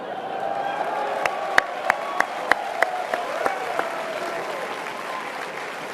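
An audience at a Brophy College Preparatory graduation gives a valedictorian address a sustained round of applause, a dense wash of clapping with sharp individual claps standing out near the front.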